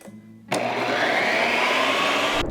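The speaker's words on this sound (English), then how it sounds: "the creamy fit setting really gave this machine a hard workout" Ninja CREAMi ice cream machine grinding through a pint on its creamy fit setting, starting abruptly after a quiet hum and then whirring loudly and steadily for about two seconds before cutting off.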